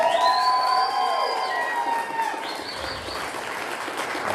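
A live comedy show audience cheers and applauses, with whistles and whoops rising over the crowd noise, loud at first and then easing into a lower wash of clapping.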